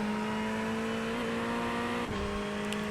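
Ferrari 488 GT3 Evo race car in iRacing at Lime Rock, engine droning at steady high revs under throttle with a brief dip as it shifts gear, loud and close throughout.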